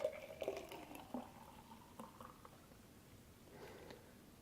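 Juice poured off from a Kuvings Whole Slow Juicer into a container on a kitchen scale, heard as faint, quiet liquid trickles and drips with a few light clinks, no talking.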